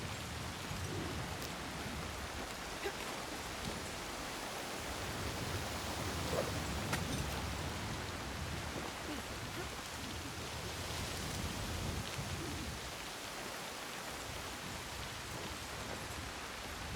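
Steady rain from an approaching storm hisses across the landscape in Assassin's Creed Shadows, a dense continuous wash at moderate volume with faint drops and a soft low rumble, no voices.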